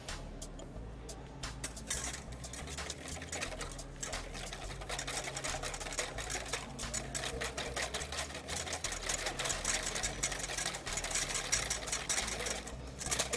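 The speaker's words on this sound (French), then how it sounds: "avec le blanc d'œuf, je peux ajouter du sucre que je monte en neige" An electric mixer whips egg whites with sugar into stiff peaks, a quiet steady whirring motor with a light rattling texture that runs continuously and alone.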